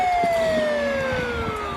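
An ambulance siren wailing on a road, a single steady tone sliding slowly downward in pitch, moderately loud and fairly near with faint traffic noise beneath.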